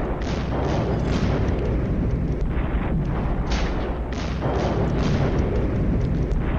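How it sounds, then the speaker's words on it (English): Repeated 120mm artillery shells explode in a World War I–era strategy game, a continuous rumble of overlapping booms with bursts landing every second or so over a dense, steady roar. "More artillery. The 120s continue to drop."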